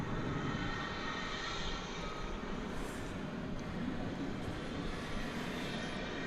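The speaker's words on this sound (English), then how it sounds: "This is American Eagle 3711. It's an Embraer 175 arriving from Monterrey in Mexico." An American Eagle Embraer 175 twin jet arriving at DFW Airport from Monterrey, Mexico, a steady broad roar of jet engines holding at even loudness throughout, with no talk.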